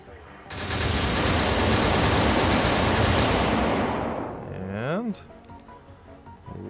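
Sustained heavy gunfire from the turn-based strategy game Xenonauts as an alien craft is shot down, a dense loud roar lasting several seconds before fading, followed by a voice speaking.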